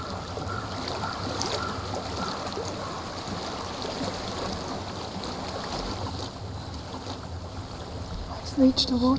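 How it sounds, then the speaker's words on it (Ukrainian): Flowing water in the video game Hellblade: Senua's Sacrifice forms a steady, even rushing wash throughout, with a few faint higher tones surfacing near the end. "Я чую воду."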